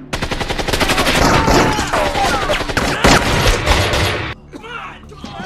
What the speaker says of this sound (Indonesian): terjadilah baku tembak antara tiga kubu di sana